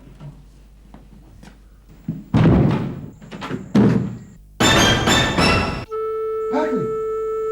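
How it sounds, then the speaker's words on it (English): Several heavy thuds and crashes against a door, loud and close, with bursts of impact noise between brief pauses and a voice calling out. "I think we'll have to bust this door."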